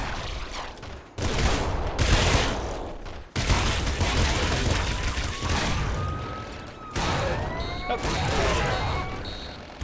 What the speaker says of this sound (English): And then now there's slugger shots.